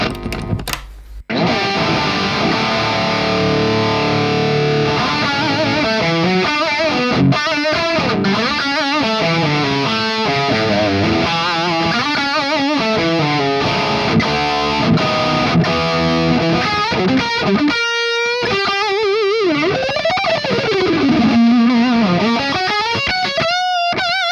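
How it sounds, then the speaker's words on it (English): A Les Paul electric guitar plays through a Hotone Ampero 2 on the RA-2230 boutique amp model, loud and distorted, with sustained bending lead lines running continuously before a brief pause and further sliding phrases. "Let's check this also out with the Les Paul."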